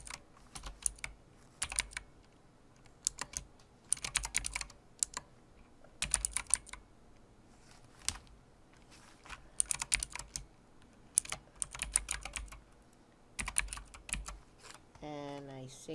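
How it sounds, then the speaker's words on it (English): Typing on a computer keyboard while entering a name into a webinar registration form, quiet, close key clicks in irregular bursts with short pauses, ending in a brief rising electronic tone. "here's where you can type in the person you want to add"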